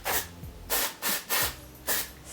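Aerosol hair spray hisses in five short bursts over heatless waves, each spritz a sharp, close, airy blast separated by brief pauses.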